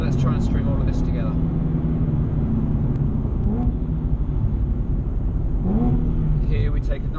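A Nissan 370Z Nismo accelerates on the Spa race track, its engine a steady in-car drone that rises in pitch, heard under someone talking.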